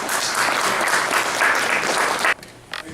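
Audience at a memorial for a San Jose Chicano writer breaking into dense, sustained applause that cuts off abruptly, leaving faint room noise and a few last claps.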